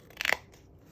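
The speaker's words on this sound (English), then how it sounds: "trim around the edge with my scissors here that I use for envelope flaps only" Scissors snip and crunch through paper while trimming around the edge of an envelope flap, a single short, close cut that fades quickly.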